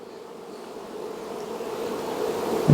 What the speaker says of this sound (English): Look at these bees, man. They are just really busy, really happy, seem to be.